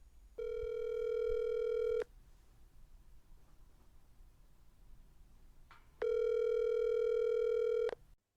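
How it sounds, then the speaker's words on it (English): A telephone dial tone plays during a call to a guest, steady and loud in two long stretches with quiet line noise between them and no talking. "So let's get Chris on the phone."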